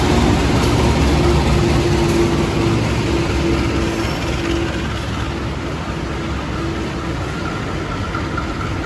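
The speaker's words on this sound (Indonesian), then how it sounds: "kereta gaya baru Malam Selatan pun akhirnya tiba." The Gaya Baru Malam Selatan passenger train arriving at Surabaya station, a loud continuous low rumble of engine and rolling wagons that eases slightly as it slows, with a faint steady squeal over it.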